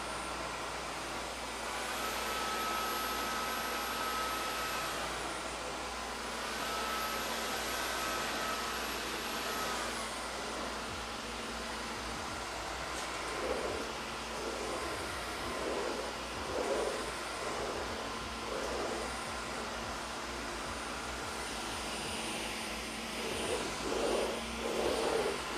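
A Dyson Gen5outsize cordless vacuum cleaner runs in auto mode with a steady, loud whine, its motor pitch rising and dipping as it ramps up and down, with scattered crackles and rattles of debris being sucked up.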